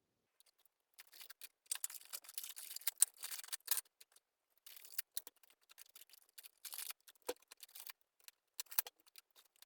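Packages from an order of transparent building bricks are unboxed, giving faint, intermittent crinkling, rustling and small clicking sounds in short irregular bursts separated by near silence.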